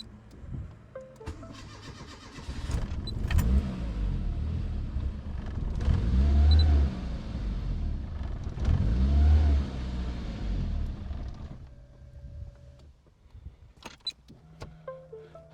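A car engine with a fuel delivery problem cranks over and over in long loud bursts, with steady low chugging rhythm across several attempts, then falls quiet with some faint clicks near the end.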